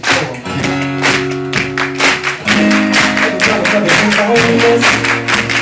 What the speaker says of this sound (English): Now I want this half of the audience to clap your hands like this